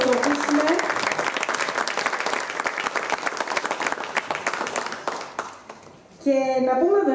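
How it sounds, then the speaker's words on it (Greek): An audience at a Syros memorial event on the Dredes of the Greek resistance applauds in a sustained, dense burst of clapping that fades out before a voice speaks briefly at the end. "Και τον Γιάννη τον Ρούση να χειροκροτήσουμε."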